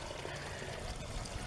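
Water pours and trickles steadily while a 1999 Buick Park Avenue radiator is flushed, running muddy, a continuous close splashing stream with no breaks.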